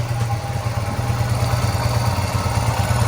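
Honda XR80 motorcycle with a newly fitted carburetor, engine running steadily at close range, a loud continuous low chugging idle with a fast even pulse throughout.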